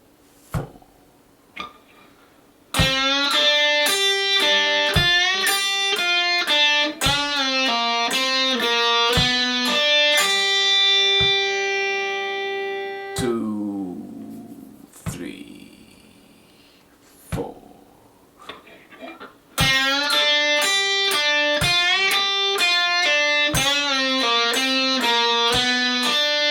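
Electric guitar playing a lick pattern, fast repeated picked phrases with sixteenth-note triplets, a long held bend and slide in the middle, then the rapid pattern resumes, loud and alone.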